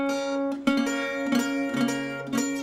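An acoustic guitar chord in Delta blues fingering rings out and is restruck several times, each strum sustaining with bright harmonics, close and alone.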